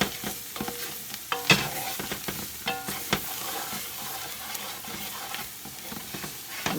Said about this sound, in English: just scrape it around, stir it around